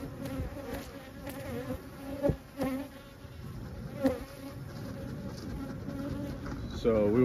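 Feisty honey bees from a pollination hive buzz loudly around the open box, a dense steady drone with individual bees zipping close past the microphone.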